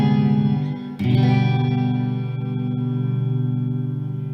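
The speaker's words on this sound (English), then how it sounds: "It sounds like it, but it's just the guitar and the amp." An electric guitar rings through an amp with reverb, a sustained chord decaying and then restruck with a sharp attack, the tone shimmering and echoing as it fades.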